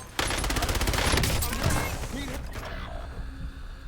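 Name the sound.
weapon magazine reload in Call of Duty Warzone video game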